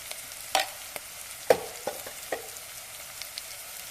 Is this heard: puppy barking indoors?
no